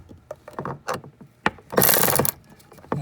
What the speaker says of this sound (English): put it on an electric wrench